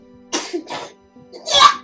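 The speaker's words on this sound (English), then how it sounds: "Good cough," A person coughs twice in quick, close succession, then after a short pause lets out a louder, harsher third cough against a quiet room.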